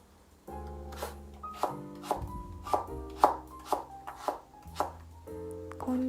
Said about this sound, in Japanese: 人参は薄切りにしていきます。